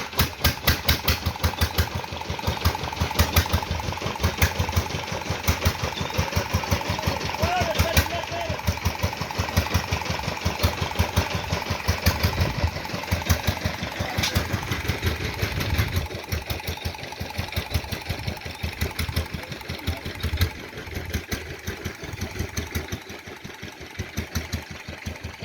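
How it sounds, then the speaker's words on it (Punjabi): A Peter diesel engine powering well-digging work runs steadily and loud throughout, a dense rapid chugging thump with mechanical clatter and no clear pauses, close by and alone. "ਉਸਤਾਦ ਚੱਲਿਆ ਜੀ, ਪੀਟਰਨ ਸਟਾਰਟ ਕਰਨ ਲੱਗਿਆ ਹੈ।"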